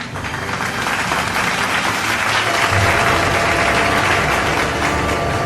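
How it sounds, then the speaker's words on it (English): Sustained applause from a crowd at a school completion ceremony, dense and fairly loud, with clapping that stays steady throughout and no talk over it. "Let's give them a virtual applause."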